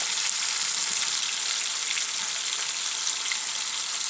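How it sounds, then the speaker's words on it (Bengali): Potatoes frying in hot oil for a meat dish, a steady, dense sizzle holding at a constant loud level throughout with no talking. "তেলটা আমার গরম হয়ে এসছে, এখন আমি আলুটা দিয়ে দেব।"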